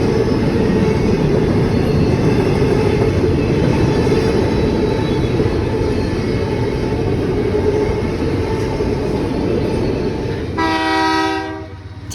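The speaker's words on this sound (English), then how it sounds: "here is the Eastbound NS Intermodal train with 2 NS up front" An eastbound Norfolk Southern intermodal freight train led by two NS locomotives rumbles past steadily and loudly, with a horn sounding near the end.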